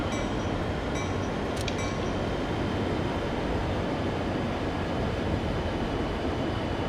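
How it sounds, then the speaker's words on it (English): A train slowing down on approach to a signal, heard from inside the cab as a steady broad rumble of wheels and motor with brief faint clicks, holding even loudness throughout. "So we're going to slow the train down."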